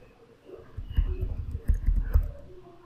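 Computer keyboard keys are pressed in a quick burst of clicks and taps at close range, ending with the enter key, while a terminal command is entered on Ubuntu.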